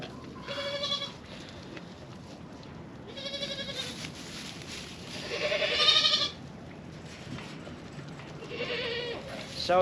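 Several goats bleat in a farm shelter during an ice storm, four or five wavering calls spaced a couple of seconds apart, moderately close over a steady rushing background of wind and sleet.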